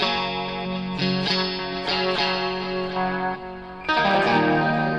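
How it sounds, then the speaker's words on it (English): Clean electric guitar played through a boost pedal set barely on, a steady sustained chord ringing with a slight edge and a fresh strum near the end, close and alone. "They have a boost. Oh, it's barely on"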